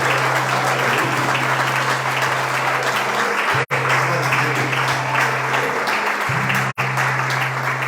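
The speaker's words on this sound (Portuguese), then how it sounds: "E se você crê, dê um aplauso ao Senhor." Congregation at a Portuguese-language church service applauding steadily for nearly eight seconds, a dense loud wash of clapping with a low sustained hum underneath, broken by two abrupt momentary dropouts.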